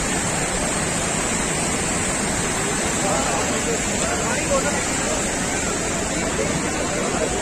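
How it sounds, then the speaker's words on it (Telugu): Fast-flowing water and waves rushing down from the hills on the Amarnath Yatra route during heavy rain make a dense, loud, unbroken roar, with faint voices mixed into the background. "ఇక్కడ అలలు, కొండల నుంచి వచ్చే వాటర్ అన్నీ కూడా ఎంత స్పీడ్గా వెళ్తున్నాయో మీరు చూడొచ్చు."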